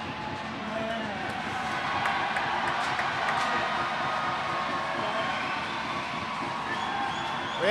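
Ice hockey spectators on their feet jeer a player in a Tigers versus Sheffield Steeldogs match, a broad continuous crowd roar that swells slightly and holds, with sharp clacks and knocks from the rink mixed in.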